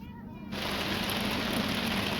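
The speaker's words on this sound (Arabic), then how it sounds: "شايفين كيف مطر، بدت الأمطار بغزارة" Heavy rain pours down on a tent camp, starting abruptly into a dense, loud, constant hiss and patter of drops close by that holds steady with no voices.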